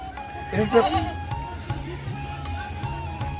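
Goats bleating at a commercial goat farm where goats are bought and sold, a few bleats standing out near and moderately loud, under someone talking.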